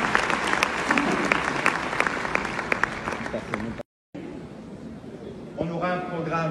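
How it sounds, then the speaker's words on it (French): An audience claps for a Cameroonian diaspora ballet troupe with dense, steady applause and some sharper individual claps. A short dropout breaks it before the clapping continues more softly, with a voice entering near the end. "Qu'on applaudit encore une fois, s'il vous plaît."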